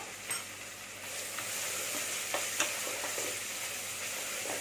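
Sliced onions and green chillies sautéing in a pan for mushroom biryani give a soft, continuous hiss with a few faint stirring scrapes, quiet and unbroken throughout.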